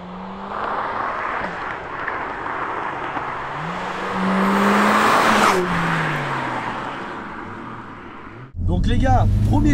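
A car accelerates hard on its first drive, its engine note sweeping upward through the gears at close range, then cutting off as excited voices break in.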